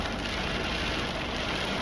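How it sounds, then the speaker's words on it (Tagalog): Dense, steady hiss of heavy rain pouring down during flash flooding in Dubai, a constant wash of noise with no voices. "grabe talaga yung ulan ngayon"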